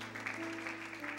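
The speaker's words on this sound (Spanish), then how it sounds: "Dele ese aplauso fuerte al Señor" A congregation at an evangelist's church service claps for the Lord: a steady, moderately distant wash of applause that holds evenly over a sustained, humming musical tone.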